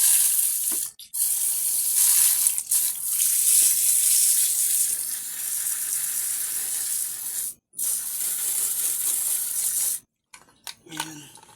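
A loud, close, continuous hiss of spraying water washes a motorcycle magneto coil with dish soap, broken by brief pauses between bursts.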